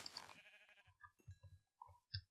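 Blocky sheep in the Minecraft video game bleat in short repeated bursts, several quick bleats, along with soft game clicks, with no talking.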